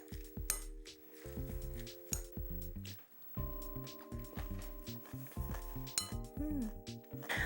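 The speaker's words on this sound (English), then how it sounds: "you mix all the ingredients together" Bibimbap ingredients are mixed together in a bowl, with a spoon or chopsticks clinking and scraping against it in soft, repeated strokes and wet squishing underneath, close and fairly quiet under background music.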